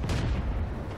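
A tank cannon shot in World of Tanks, fired from a Marder 38t at a KV-1S: a single heavy, booming blast opening a one-second burst of low rumble that stays loud as it dies away.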